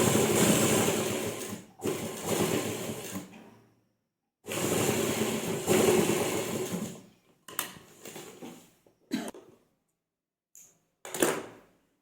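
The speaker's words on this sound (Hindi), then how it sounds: "अब हम अपनी मूरी वाली साइड भी सिलाई लगाएंगे।" A sewing machine stitches ladies' pants in close, loud bursts of whirring motor and needle, the longest runs coming early, then shorter stop-start stitches with quiet pauses between.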